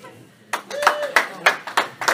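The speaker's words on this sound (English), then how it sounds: "I need a quick clap" A small comedy-club audience at a stand-up show in St Louis gives a quick, sparse clap, several hands striking in loose bursts at close range, with a brief tonal voice or whistle sliding through partway.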